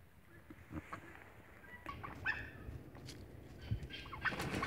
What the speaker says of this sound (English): Wow, the turkeys are feeling adventurous tonight.